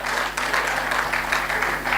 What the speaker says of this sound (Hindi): देखिए वो ताली बजा रहे हैं